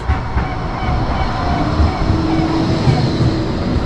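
A tram rumbles past close by on a street in Fleetwood, steady rolling noise with faint clicks of wheels on track and a low hum underneath.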